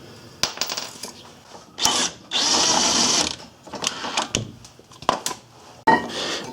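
Power tool spinning out brake caliper bolts on a Ford Escape during a front brake job, a sustained whirring burst followed by shorter bursts, with metallic clinks and tool handling in between.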